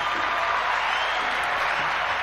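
Steady, dense applause from a crowd, full and continuous from start to finish with no voices rising above it, as heard at the end of a segment on a career-talk podcast.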